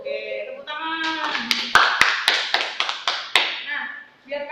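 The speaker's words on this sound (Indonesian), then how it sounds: "Oke, tepuk tangan." A class of elementary school pupils claps hands together in a quick rhythmic burst of about a dozen sharp claps, close and loud, with children's voices chanting along.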